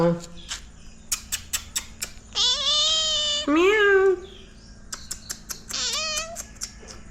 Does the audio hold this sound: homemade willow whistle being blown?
no